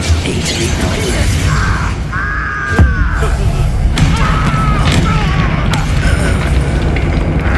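Incendio fire spell blast in Hogwarts Legacy, heard as a loud booming burst amid continuous combat noise, thuds and crashes, with voices shouting during the fight.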